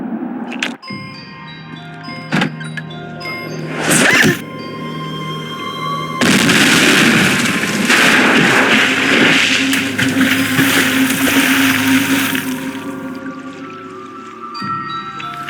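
An explosion shatters the ice on a frozen creek during ice fishing in the Nancy Drew game The White Wolf of Icicle Creek. A few sharp cracks give way to a loud, sustained crashing rumble, with no talk.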